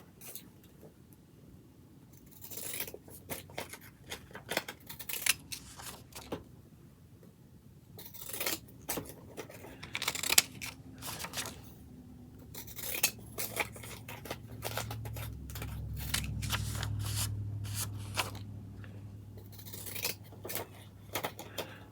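Scissors snip through paper in irregular bursts of sharp cuts, close by, with quiet pauses between and a low rumbling hum rising partway through.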